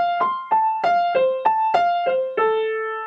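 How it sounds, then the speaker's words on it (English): A piano plays an even phrase of repeating four-note groups without accents, the notes struck one after another at a steady, unaccented pulse, clear and close with no voices. "So if I didn't put those accents in, it would sound like this."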